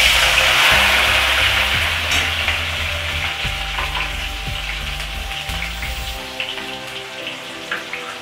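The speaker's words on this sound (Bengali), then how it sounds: "এবার টমেটোটা একটু ভেজে নিচ্ছি ভালো করে।" Tomatoes frying in hot oil with a bay leaf in a pan, a steady loud sizzle with occasional stirring scrapes and a low background hum that drops out near the end, with no voices.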